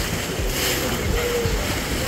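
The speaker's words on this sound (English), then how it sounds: "we're going through some rough water right now" Turbulent rushing water and wind roar continuously on a river raft ride through rapids, splashing and churning close by with a steady, choppy texture.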